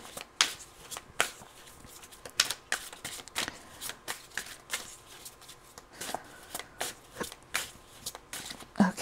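Bianca Nero Tarot cards by US Games being shuffled and handled: a run of crisp, close riffling snaps and flutters in irregular bursts, with soft handling rustle between them.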